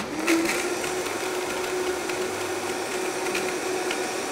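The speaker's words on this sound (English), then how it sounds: "and just grinding those macadamia nuts down" A blender running on high grinds macadamia nuts with water into a cream, a continuous loud whirring drone with a steady motor tone; a brief murmur of a voice is heard near the start.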